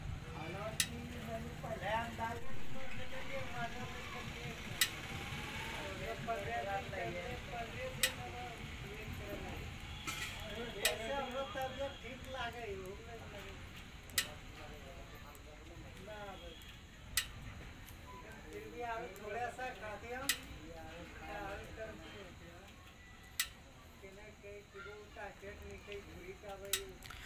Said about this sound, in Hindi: अभी मैंने गाड़ी जब खड़ी किया तो साइलेंसर से आवाज़ आ रही है पट पट जैसा।